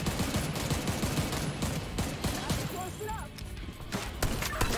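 Turret gunfire in a video game set in the USA, dense rapid bursts of automatic shots with sharp cracks and a few impact crashes, loud and continuous, with a voice talking underneath.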